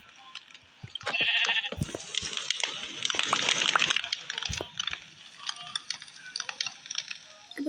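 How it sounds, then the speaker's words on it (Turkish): Sheep bleating in a few wavering calls, fairly close, with scattered rustling and handling noises in between. "Bak koyunu görüyor musun?"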